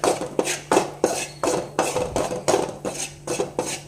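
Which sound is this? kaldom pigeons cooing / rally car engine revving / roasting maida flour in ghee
roasting maida flour in ghee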